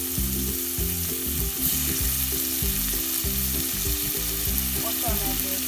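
Garlic frying in a pan for palak paneer, a loud, close, steady sizzle with no talking.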